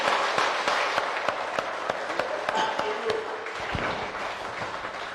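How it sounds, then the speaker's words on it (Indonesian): Applause from an audience at an indoor gathering as a leader from Jambi is welcomed: steady, dense clapping with a few sharper individual claps, moderately loud throughout. "tepuk tangan untuk Bapak Ahmad Rosikin."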